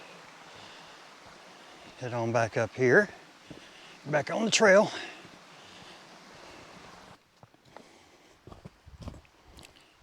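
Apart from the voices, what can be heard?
creek water flowing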